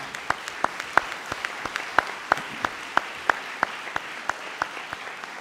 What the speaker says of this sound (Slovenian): In jaz vam predlagam, da date en aplavz za naš podmladek, za naše mlade.